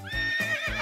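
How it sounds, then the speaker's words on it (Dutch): A horse gives a short, close, clear whinny with a few quick rising and falling neighs in under a second, alone without speech. "De politieagent reed op een paard."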